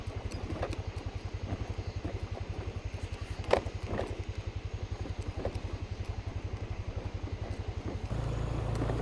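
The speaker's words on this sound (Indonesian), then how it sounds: "Nih depan kita ini ada motor juga bisa lewat" A motorcycle passes on a road newly cleared of a landslide, its engine a steady, fast-pulsing drone close by, then shifting to a rougher, lower note near the end, with no talk over it.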